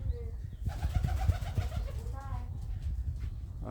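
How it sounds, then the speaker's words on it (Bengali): A white pigeon coos close by in a short series of soft repeated calls, with someone speaking over part of it. "এই যে আমার হচ্ছে এই সাদা পায়রাটা"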